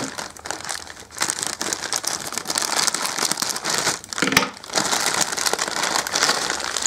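Plastic bags from a Bela Ninjago building set crinkle and rustle continuously, close up, with steady crackling handling noise and a brief sharper crunch partway through.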